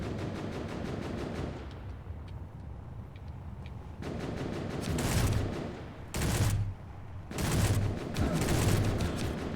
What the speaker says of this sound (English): that's two guys shooting